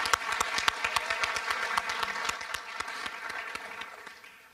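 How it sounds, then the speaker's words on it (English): Audience applause at a youth human rights awards ceremony, a dense burst of many hands clapping that holds steady and then thins slightly toward the end. "Let's give a round of applause for 1440 Interact."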